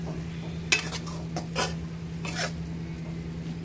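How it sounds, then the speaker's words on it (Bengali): Marinated meat is stirred in a pan on the stove, with several scraping clinks of a spatula against metal over a low sizzle and a steady hum. "ম্যারিনেট করা মাংসটা দিয়ে এতক্ষণ ধরে কষাচ্ছি"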